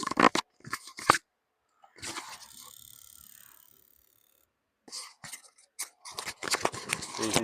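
Bosch EV1 fuel injectors from a BMW E23 745i click in quick, faint bursts while being cleaned, with short pauses between bursts and a soft hiss in the middle.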